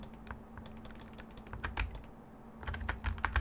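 Keys on a computer keyboard are tapped in quick irregular bursts with short pauses, close and fairly quiet clicks, no one speaking.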